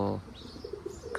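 American pigeons coo in soft, low repeated notes close by, a few quick coos in a row amid light chirps, with faint human voices nearby.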